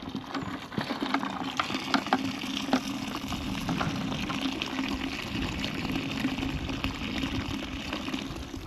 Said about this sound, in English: Now we've got it going into the fermentation vessel, or bucket, if I'm honest.